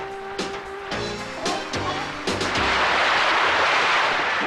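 Cannon fire in a French cartoon, a series of sharp booming blasts in quick succession followed by a sustained loud roaring rush of noise.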